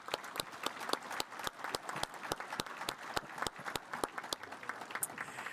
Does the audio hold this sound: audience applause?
yes